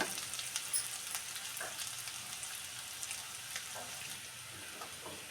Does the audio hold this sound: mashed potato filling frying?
yes